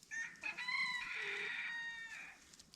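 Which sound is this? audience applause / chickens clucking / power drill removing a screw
chickens clucking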